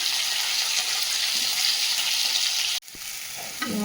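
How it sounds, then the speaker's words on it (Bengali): Fish curry spice paste sizzles steadily in a hot pan, a loud continuous frying hiss, then cuts off abruptly near the end and returns quieter with a brief splash, as water might be added. "মাছের ঝালের মশলাটা ভালো করে ভেজে নিয়েছি, জল দিয়ে দেবো।"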